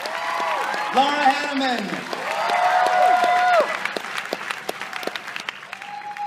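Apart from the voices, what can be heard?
applause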